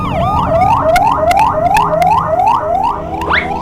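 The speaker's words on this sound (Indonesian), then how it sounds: "Ada mobil ambulans mau lewat nih." An ambulance siren wails in a fast repeating rising yelp, loud and close, about eight sweeps before it cuts off and a final upward whoop, with no voices.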